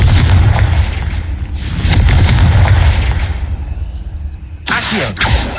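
A Confringo blasting spell from Hogwarts Legacy, heard as heavy booming bursts with a rumbling low roar and a sharp crack near the end, loud and close.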